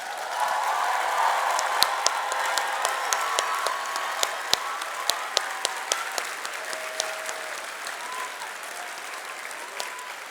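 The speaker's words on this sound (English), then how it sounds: "can I please have a massive round of applause for the top 10 high school" Big audience applause for the top ten high school iGEM teams at the iGEM 2022 Grand Jamboree. A dense, sustained wash of clapping runs the whole time, with a few sharp claps standing out and a faint voice or whoop now and then.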